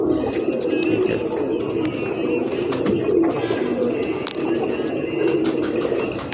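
Pigeons coo in low, throaty murmurs close by, with a voice talking over them and some faint flutters and chirps.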